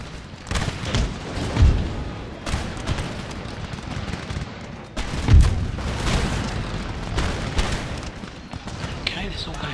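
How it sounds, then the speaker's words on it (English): Artillery fire during a battle in the strategy game Empire: Total War, with scattered booms and gunshots, two heavier thuds standing out, over a steady battlefield din with distant musketry. "See if the artillery can do a good job on these guys."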